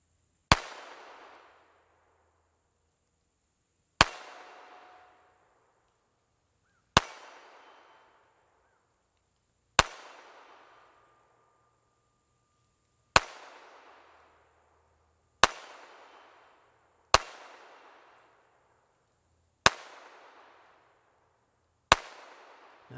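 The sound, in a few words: Walther P22 pistol firing subsonic ammo, limp-wristed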